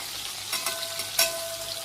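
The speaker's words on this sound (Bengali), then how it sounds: "এখন হচ্ছে মাছ ভাজা" Fish frying in oil in a pan, a soft steady sizzle with a few louder crackling bursts and spatula scrapes, fairly faint and without talk.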